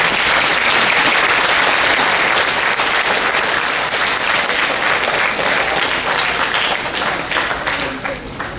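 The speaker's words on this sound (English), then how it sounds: "Let's give all these students a round of applause." Loud, dense applause from an elementary school graduation audience pours on for students, a continuous roar of clapping close up that eases slightly toward the end.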